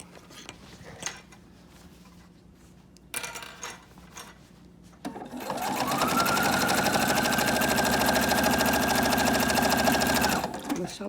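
A sewing machine stitches steadily for several seconds, its fast whirring mechanical hum rising in after quieter handling and clicks, loud and close.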